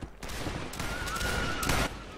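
Video game gunfire crackles in a dense volley of rapid shots, loud and continuous for about two seconds before cutting off.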